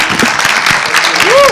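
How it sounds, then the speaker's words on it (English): A round of applause for a guest at a Turkish film festival, steady clapping from the audience filling the whole moment, with a speaking voice faintly layered over it and a short tonal sweep near the end. "a round of applause for Jem."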